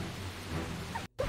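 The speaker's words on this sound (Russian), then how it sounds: "И тут уже дождь, какие-то погодные эффекты." Steady rain from the weather effect in the Blade and Soul video game hisses softly and continuously, briefly dropping out near the end before resuming.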